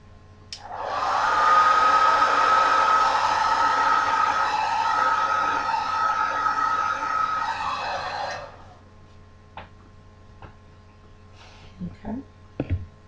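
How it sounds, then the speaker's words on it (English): A handheld blow dryer roars steadily and close up for about eight seconds while drying hair, then shuts off. Faint handling noises follow. "go back over that with the blow dryer"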